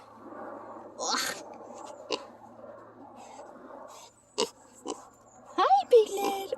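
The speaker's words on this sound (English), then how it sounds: "Oh, it's a pig." Small piglet on a homestead farm oinking and grunting in a few short bursts, close by, with people talking softly around it.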